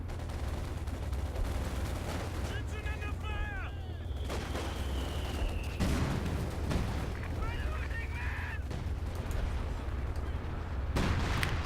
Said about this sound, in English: Is that major artillery? I think it is.